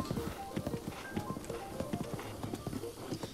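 Ghost horse hooves clip-clopping at a steady walking rhythm in a video game, close and fairly quiet, with no talk.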